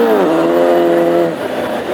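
Classic hot rod race cars rumbling along on a rolling lap at a racing circuit, a sustained engine drone that shifts pitch as the cars move, then fades slightly toward the end.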